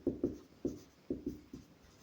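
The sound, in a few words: writing a math solution by hand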